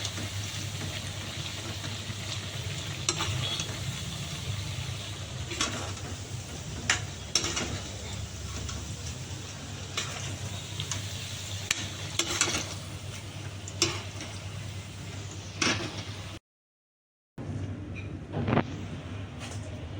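Homemade katanimki snack frying in a pan, a soft continuous sizzle with scattered clicks and stirring knocks, interrupted by a brief silence near the end.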